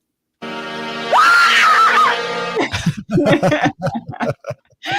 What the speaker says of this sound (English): Like a blood curdling scream.